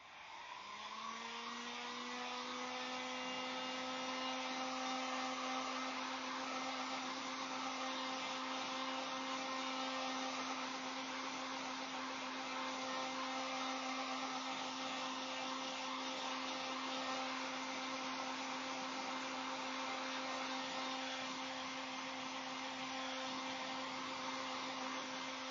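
A hair dryer blows steadily on a decoupaged ghost to dry the glue, a constant whirring motor drone with a strong steady tone that rises briefly as it starts, heard alone and fairly close for the full stretch.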